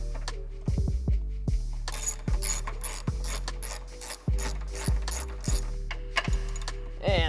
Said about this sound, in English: last thing we gotta do to get our front strut out is to just undo these 3 12mm nuts